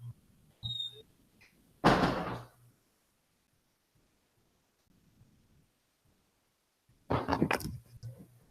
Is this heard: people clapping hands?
no